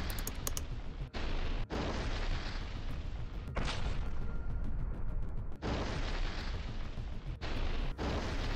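FAB-3000 heavy bomb striking a Ukrainian air defense position, a deep, thunderous blast roar that stays dense and loud, broken by several abrupt cuts, with no voices.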